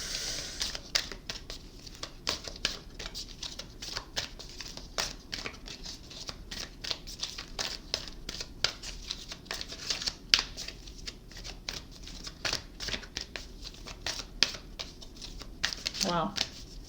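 Tarot cards being shuffled, a run of quick close papery riffles and slaps in irregular bursts throughout, with a brief spoken sound near the end.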